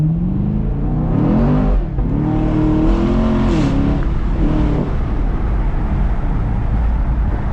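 Chevrolet Camaro SS V8 engine revving in sport mode, a loud, close, continuous rumble that rises and falls through several throttle blips, with revs lingering and dropping slowly between pushes.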